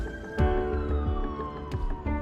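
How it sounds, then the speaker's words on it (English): An ambulance siren wails steadily with a drawn-out descending tone, a few sharp knocks and bumps breaking through nearby. "I hear a siren. Sounds like the ambulance is here."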